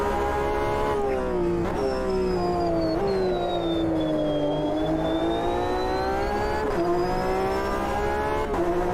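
A race car engine screams at full throttle in the Automobilista 2 racing game, a sustained high-pitched wail that dips and climbs with gear changes, loud and continuous without talk.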